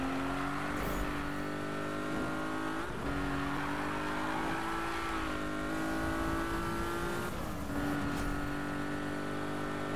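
Magnus' 277 Porsche race car in Need for Speed, its engine droning loud and steady, the pitch climbing and dropping through gear shifts with brief tire noise, no voices.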